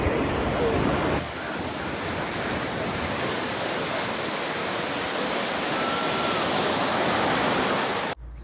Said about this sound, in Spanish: Súper impactada con lo fuerte que estaban las olas en Playa Medina.